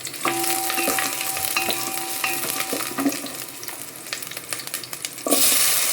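Onions and curry leaves sizzle in a pan of hot oil on a low gas flame while they are stirred. The sizzle stays steady, with scattered sharp crackles, and flares up loudly near the end.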